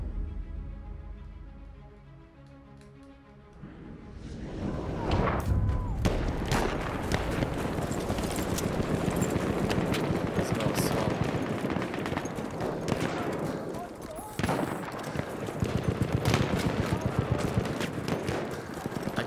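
Gunfire in the video game Battlefield 1 crackles almost continuously after a quieter opening, dense overlapping shots near and far forming a chaotic battlefield din with sharp individual cracks throughout.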